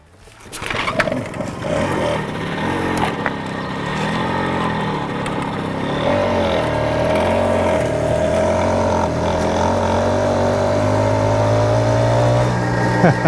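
A 1970 BSA Ariel 3 moped pulls away and rides on, its small two-stroke engine buzzing and rising in pitch as it accelerates, then holding a steady whining drone with wind rush, close to the rider.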